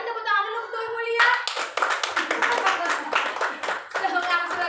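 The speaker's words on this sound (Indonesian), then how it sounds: "Berarti tepuk tangan dulu untuk Ibu Lia." Hands clapping for a teacher in an Indonesian classroom or training session, a burst of quick claps starting suddenly and running steadily after a brief spoken opening, with a voice at the start.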